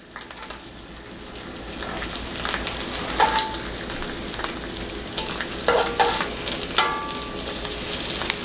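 Grilled cheese sandwiches sizzle steadily in a hot pan, a continuous close crackle with occasional sharper pops and scraping as they are moved, alone without talk.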